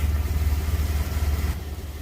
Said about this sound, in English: Now we're going to turn the engine off.